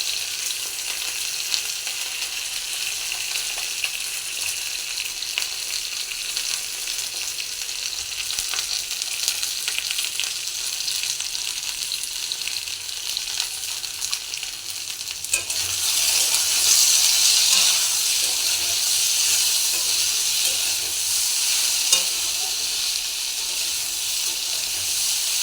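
Okra and potatoes fry in a home kitchen pan with a steady sizzle that swells a little louder partway through, alone and without voices.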